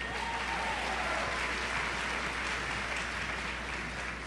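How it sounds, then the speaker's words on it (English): An audience at a South Oak Cliff High School celebration gives a steady, continuous round of applause, a dense wash of clapping heard from a distance at low level without voices. "So let's give her a round of applause."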